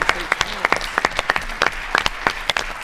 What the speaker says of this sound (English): Let's have a big round of applause for all of our amazing competitors.